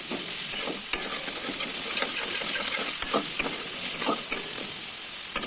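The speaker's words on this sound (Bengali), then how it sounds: "তো দেখো, আমি ভালো করে মশলাটা ভেজে নিচ্ছি।" Ground spices, coriander and cumin powder, sizzle in hot oil in a pan while a spoon scrapes and stirs in irregular strokes, close and continuous with no talking.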